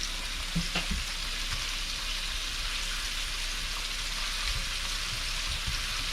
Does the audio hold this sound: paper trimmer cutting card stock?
no